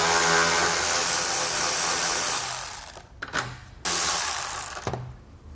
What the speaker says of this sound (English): remove the 5 10mm head bolts along this bottom edge here